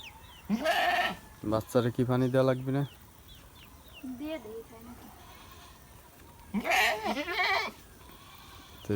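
A Ram goat kid bleats in a village yard, three loud, wavering cries with quieter bleats and clucking fowl between, while someone speaks.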